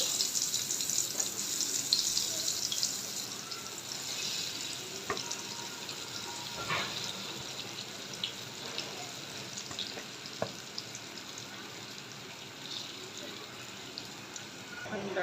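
Pointed gourd (potol) pieces fry in hot oil, making a bright crackling sizzle close up, loudest at first and then settling into a steady hiss, with occasional clinks and scrapes of a spatula.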